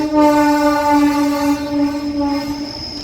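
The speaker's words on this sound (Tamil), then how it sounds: "நான் கூட பயந்துட்டேன், என்னடா சவுண்டு கேட்குதே, வண்டியை காணுமேன்னு பார்த்தேன். அது அந்த ட்ராக்கில் போகிற வண்டி போல் இருக்குது." A train runs along the adjacent railway track beside a bus in heavy rain, its loud sustained horn tone with strong harmonics sounding close and continuous, with rumbling rail noise beneath.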